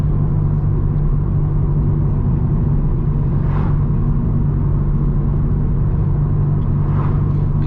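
A Nissan S15 on low boost with polybushed suspension drives along, its engine a steady loud rumble with road and chassis vibration throughout, two brief higher whooshes rising over the drone.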